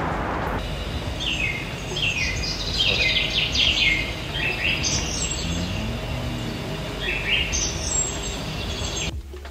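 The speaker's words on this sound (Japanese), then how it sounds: "聞けましたでしょうか、この穏やかな山の音、ね、鳥の声と風の音。" Birds sing in a quiet mountain forest in Kyoto, several clear chirping and trilling phrases close by over a soft, steady background hush of the woods.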